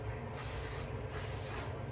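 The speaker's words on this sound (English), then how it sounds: "So I'm just gonna spray it a little bit and spray this side a little bit." BioSilk holding spray misted onto a wig's hair in two quick bursts, each a close, bright hiss lasting about half a second, with quiet room noise between and after.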